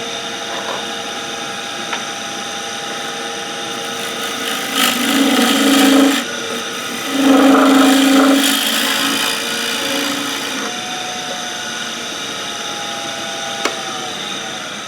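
A wooden bowl spins on a lathe while a bowl gouge cuts into it, producing a steady, loud scraping hiss that swells in a few stronger passes before easing back.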